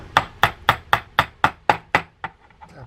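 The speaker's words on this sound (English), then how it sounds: "Use a dead blow hammer here to" A dead blow hammer taps a pin into a Penn Monofil fishing reel during servicing: eight firm, evenly spaced knocks at about four per second, close and sharp, followed by a couple of fainter taps.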